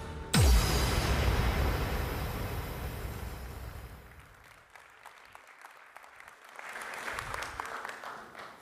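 Audience applause at a conference welcoming the day's host, a broad wash of clapping at the start that fades after a few seconds, leaving sparse claps and faint room noise before a brief swell near the end.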